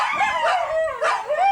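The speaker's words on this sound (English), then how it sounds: "that's the doggy symphony of India." Several street dogs in India bark and howl together in long, wavering, overlapping cries, close and fairly loud with no talk.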